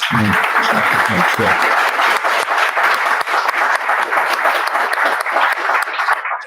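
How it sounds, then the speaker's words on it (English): An audience gives a round of sustained applause at a live talk, with dense clapping filling the room near the microphone and a few deep voices or thumps at the start. "I think you should probably do a round of applause for the stories."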